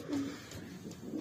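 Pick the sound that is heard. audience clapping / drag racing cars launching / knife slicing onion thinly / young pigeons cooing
young pigeons cooing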